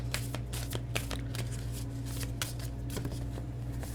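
Starman Tarot cards are shuffled close up, a steady run of quick papery riffles and flicks over a constant low background hum.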